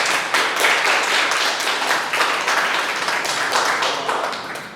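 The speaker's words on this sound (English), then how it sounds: "Let's give applause for FIG." A crowd at a 2024 art showcase finale claps for the venue hosts, a dense, steady burst of applause that swells briefly and then eases off toward the end.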